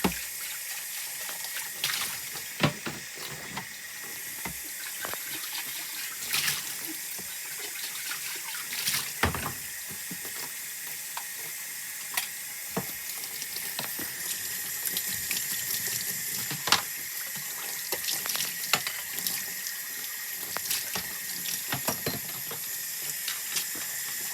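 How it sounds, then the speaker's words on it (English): Running water rinsing dairy milking equipment in cool to lukewarm water, a steady hiss of flow with scattered clanks and splashes throughout, close and continuous without speech. "rinse everything off in cool to lukewarm water."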